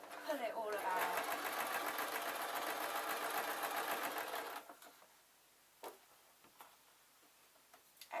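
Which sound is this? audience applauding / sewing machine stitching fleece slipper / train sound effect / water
sewing machine stitching fleece slipper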